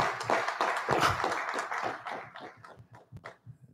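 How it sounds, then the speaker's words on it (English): A church congregation claps along in a rhythmic, moderately loud burst of handclaps that gradually thins out into scattered claps. "go ahead and clap for Jesus."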